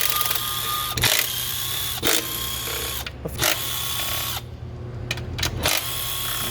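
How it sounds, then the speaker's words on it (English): Power tool, likely an impact driver or ratchet, running off 8 mm bolts on a 6.7 Ford diesel truck during an EGR repair: several loud whirring bursts with short pauses between them, close up, and no talk. "let's rip all these 8 millis out."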